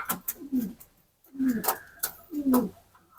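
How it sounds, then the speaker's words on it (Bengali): A pigeon coos close by in three soft, throaty, rolling calls separated by short pauses, with faint scuffling and light background noise between them. "ওই যে দেখতে পাচ্ছেন মিক্স কালার একটা কবুতর"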